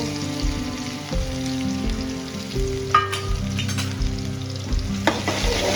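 Finely chopped onion sautés in hot oil in a pan for a tempering for moong dal, with a steady close sizzle and frying crackle running throughout, punctuated by a few brief stirring scrapes and no talking.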